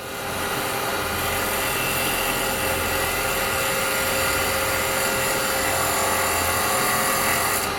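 Wood lathe turning a small bowl with a carbide detail tool, a steady whining hum with broadband cutting hiss that runs continuously and loudly for the whole stretch, with no talk.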